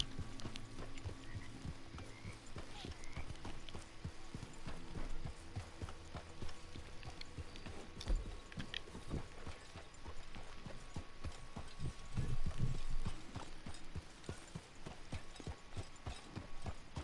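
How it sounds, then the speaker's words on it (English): A horse's hooves beat at a fast, steady gallop in Red Dead Redemption Online, a quick rhythmic clip-clop with creaking tack, fairly close and moderately quiet throughout. "Look at the pace on this horse. It's an extraordinary pace."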